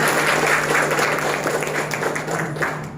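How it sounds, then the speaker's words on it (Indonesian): Sustained audience applause filling the room, loud and dense throughout, fading slightly toward the end, with a low steady hum underneath and no voices. "sekali lagi tepuk tangan buat kita semua."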